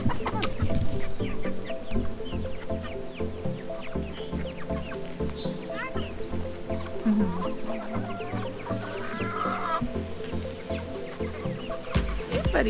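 Chickens, including a rooster and young birds, cluck around a garden yard amid constant background music, a dense, steady layer of fowl calls throughout.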